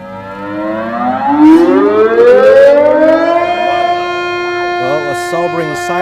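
Civil defense siren sounding across a Chinese city to mark the anniversary of the September 18 Incident, a loud rising wail that holds a long steady tone, with faint traffic and voices beneath it.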